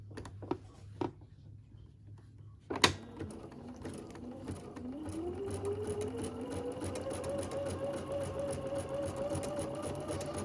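Sewing machine stitching a serpentine stitch on a fabric project bag, a few soft clicks and a knock, then a quiet steady rapid whir that rises slightly in pitch as it speeds up.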